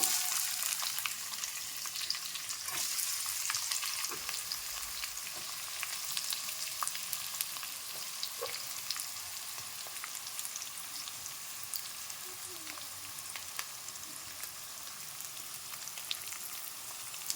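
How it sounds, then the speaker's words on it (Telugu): Onion pieces and green chillies fry in hot oil with a loud, continuous crackling sizzle that carries on throughout, close to the listener and with no voice over it. "ఉల్లిగడ్డ ముక్కలు అయితే వేసుకుంటున్నా."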